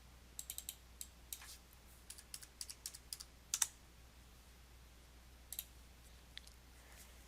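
Keys clack on a computer keyboard as numeric values are entered into a porous-media setup in SOLIDWORKS Flow Simulation, quiet clicks arriving in short irregular bursts with pauses between, no talking.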